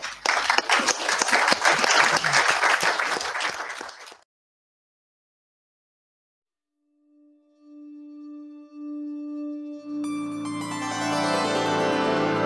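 Loud crowd applause fills the first four seconds, then cuts to silence before a sustained musical tone and chords rise.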